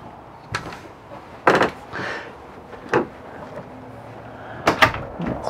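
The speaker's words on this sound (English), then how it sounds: "Closed bathroom door." A few sharp wooden knocks and thuds of a bathroom door being shut inside a 2006 Monaco Camelot motorhome, spaced out over several seconds in a quiet room.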